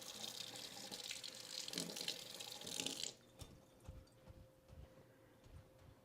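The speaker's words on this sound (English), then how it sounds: "I'm gonna rinse this out." Running tap water rinses a spoon in a kitchen sink, a steady broadband rush for about three seconds that then cuts off, leaving faint drips and small clinks in a quiet room.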